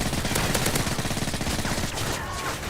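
Rapid automatic FMG9 fire in Call of Duty: Modern Warfare II runs as a dense, fast burst of loud close shots for about two seconds, then trails into softer game noise.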